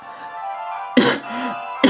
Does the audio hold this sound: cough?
yes